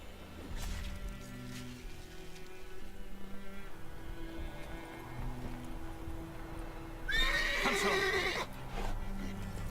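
A horse in the video game The Witcher 3: Wild Hunt gives a loud, shrill whinny that rises and trails off, over a steady background of low ambient music and noise.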